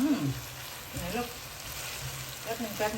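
Noodles stir-fry over low heat in a pan, a soft, even sizzle with light scraping, while someone talks briefly at the start and again near the end.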